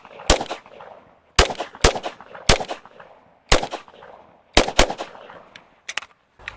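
Sharp, loud gunshots from a real MK23 SOCOM pistol ring out one at a time in an uneven rhythm, with a few quick pairs, each followed by a short echoing decay.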